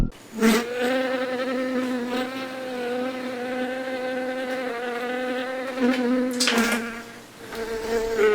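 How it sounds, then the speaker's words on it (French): A housefly buzzing close by, a steady droning hum with rich harmonics that swells and fades as it moves around, interrupted by a couple of brief louder bursts. "Mais c'est une mouche!"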